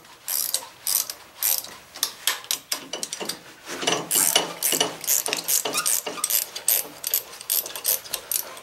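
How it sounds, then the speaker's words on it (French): A small ratchet wrench loosening the chuck on a wood lathe, a quick series of sharp clicking bursts in an irregular rhythm, close and fairly loud with no talking. "une petite clé à rochet, ça va très bien. On peut le démancher."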